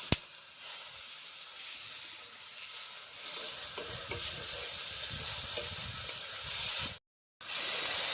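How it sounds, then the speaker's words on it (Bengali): Ground spices fried in a little oil in a wok (kadai) for village-style prawn bhuna, giving a steady, close sizzle with stirring scrapes throughout and a brief silent break near the end. "কড়াইয়ে অল্প কিছু তেল দিয়ে মশলাগুলোকে ভালোভাবে কষিয়ে নেব।"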